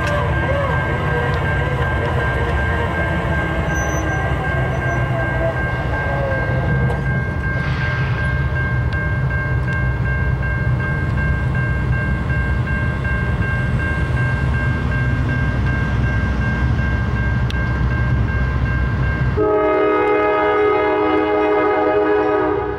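A westbound Norfolk Southern V07 freight train led by locomotive NS 9413 rumbles steadily past in Suffolk, loud and close. Its multi-tone horn sounds as a sustained blast, and a second horn chord sounds near the end.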